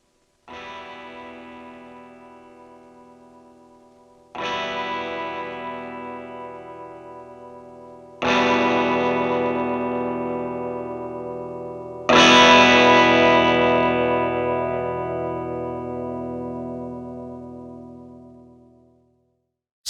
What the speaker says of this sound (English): here's how the amp sounds in the room at all 5 speaker volume levels